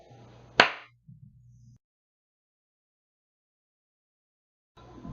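One sharp, loud hand clap rings out close by against a low steady hum. A few faint rustles follow, then near silence, and the hum returns at the end.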